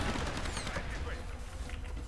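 Gunfire in the video game Tomb Raider, a dense burst of rapid shots and booms that plays under a voice throughout.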